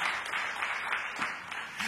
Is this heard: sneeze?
no